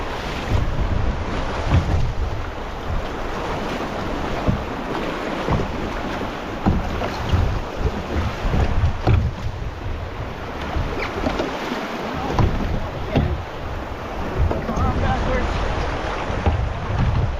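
A canoe runs down a river through rough water, with a continuous loud rush of churning water and gusty wind buffeting the microphone throughout.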